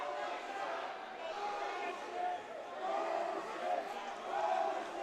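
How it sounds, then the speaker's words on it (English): Hockey crowd at an NC State arena voicing displeasure, a continuous loud roar of massed voices with rising swells of booing and shouting that never let up. "The crowd voicing their displeasure."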